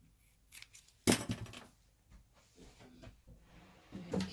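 Scissors snip notches into fabric for a beginner's sun hat, a few sharp close cuts spaced irregularly between quiet pauses.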